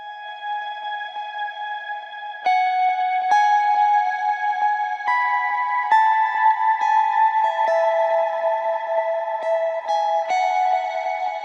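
A lone high harmony melody line, drenched in echo, reverb and chorus so it sounds dreamy and underwater, sustained notes stepping between pitches, moderately loud and alone.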